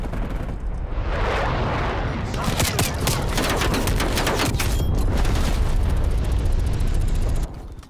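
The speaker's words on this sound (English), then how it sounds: "Authorizing napalm strike." A napalm air strike in Call of Duty Black Ops Cold War sends a continuous loud roar of explosions and crackling fire lasting several seconds, with scattered gunshots mixed in, before it cuts off abruptly.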